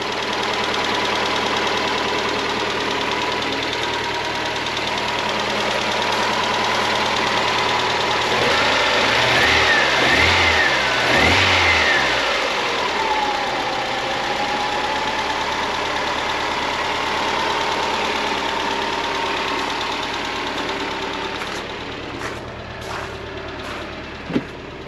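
A 1991 Mazda Miata with 31k original miles and worn motor mounts runs steadily at idle, a continuous close engine drone with rougher low rumbling bursts in the middle and a few clicks near the end.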